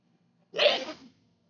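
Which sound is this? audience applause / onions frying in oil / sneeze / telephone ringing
sneeze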